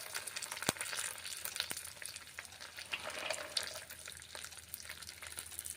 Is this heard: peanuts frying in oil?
yes